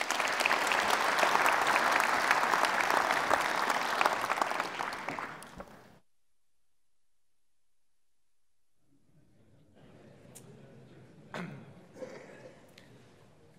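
A lecture audience gives a long, full round of applause for about six seconds before it cuts to silence. Later come a few faint knocks and shuffles.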